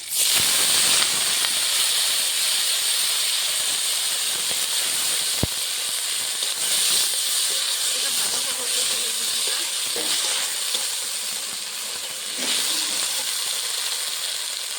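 Malabar spinach seeds sizzle steadily in hot oil with whole spices, a loud continuous frying hiss that holds for the whole stretch with slight swells and no talk.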